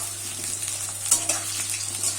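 Potatoes and slit green chilies stir-fry in a pan, a close, steady sizzle with spatula scrapes and a few sharper crackles, over a low constant hum.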